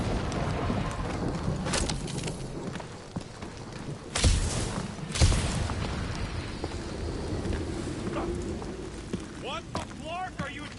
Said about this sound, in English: It's just a little rain